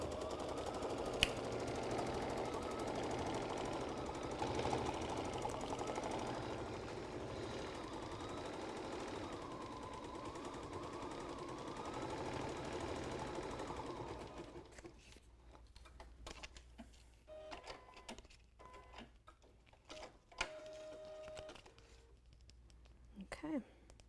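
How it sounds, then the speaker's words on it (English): A sewing machine stitches an appliqué placement line on a tea towel, a steady rapid needle rumble running for about fifteen seconds before stopping, followed by scattered handling clicks and brief tones. "We will stitch the placement line"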